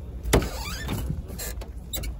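The electric power windows of a 1999 Opel Astra with a 1.6 engine and manual gearbox whir in short, close motor bursts. A couple of faint clicks are heard, and no one talks.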